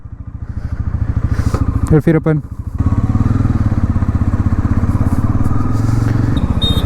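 Motorcycle ridden on a test drive from a showroom, its engine chugging in a steady close-up rhythmic thump, briefly dipping then picking up again, with someone talking over it.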